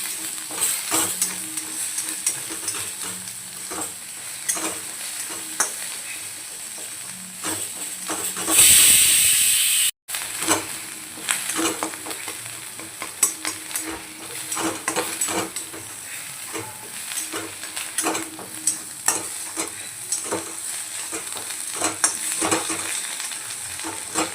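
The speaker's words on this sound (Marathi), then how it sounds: "वरतून मी थोडंसं तेल टाकते म्हणजे आपली अंडे छान त्याच्यात फ्राय झाली पाहिजे" Eggs frying in oil in a pan for anda bhurji or omelette, a steady close crackling sizzle with stirring scrapes throughout and a brief louder hiss burst near the middle.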